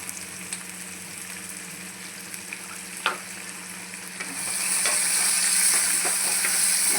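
Onions frying with salt in a pan give a continuous close sizzle with scattered stirring scrapes and a sharp clink near the middle, and the hiss swells louder in the latter half.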